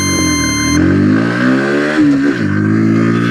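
Bajaj Pulsar NS 125 motorcycle with ABS, its 125cc engine revving hard under acceleration, a loud close-up rising whine with a brief dip around a gear change, no talking.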